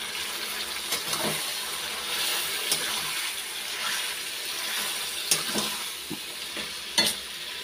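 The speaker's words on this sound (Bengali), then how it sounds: "এখন ভালো করে মিক্স করে নেব" Cumin, coriander, salt and turmeric are mixed together, giving a steady, moderately quiet scraping and rustling with a few light clicks and taps scattered through, and no speech.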